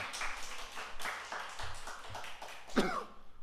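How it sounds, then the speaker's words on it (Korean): A church congregation claps in thanks, a loose run of scattered handclaps at moderate level, with a short voice or cough breaking through near the end. "두 분에게 감사의 박수 한번 해봅시다."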